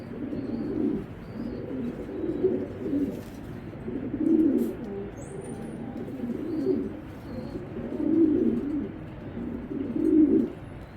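Soft, low cooing from an imported racing pigeon repeats in rolling phrases throughout, with faint higher chirps from other birds in the background.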